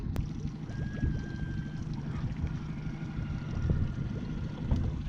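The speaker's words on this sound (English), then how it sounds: "Pretty cool little trolling motor set up on here." Minn Kota automatic trolling motor on a fishing boat in the Florida Everglades, a low steady churning hum with water lapping, recorded near and fairly quiet.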